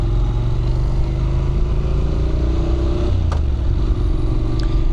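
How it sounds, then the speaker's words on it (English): A Honda NC700X motorcycle's 670cc engine runs steadily, a low even rumble with a slight pitch rise partway through and a brief clatter, loud and close with no talk. "the engine shifts perfectly fine with this little 670cc engine"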